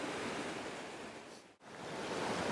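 Water rushes over a small cascade in the Hudson River Valley in early spring, a broad, steady roar close by that dips for a moment before resuming.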